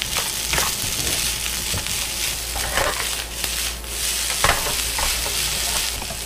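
Carne norte fried rice being stirred in a hot pan, a continuous sizzle with repeated scraping and clinking strokes of a spatula at an uneven rhythm, close and moderately loud.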